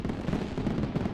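Fireworks crackle outside in a dense, continuous rattle of small bursts, steady and moderately loud throughout the short stretch.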